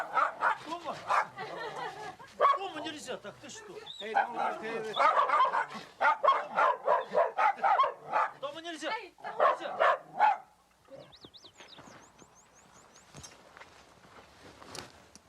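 Several dogs bark at a snow tiger: a rapid, close run of loud barks and yips for about ten seconds, then fainter whimpers and shuffling sounds.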